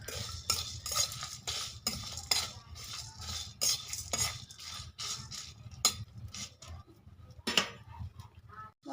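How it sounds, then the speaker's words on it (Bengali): Whole garam masala spices stirred and fried in a wok for khichuri, with a metal spatula clinking and scraping repeatedly against the pan over a low sizzle, close and steady. "এবার আমি কড়াইতে দিয়ে দিচ্ছি গরম মশলা, সব একসঙ্গে দিয়ে দিচ্ছি। দিয়ে আমি মশলাগুলোকে খুব ভালোভাবে ভেজে নেব।"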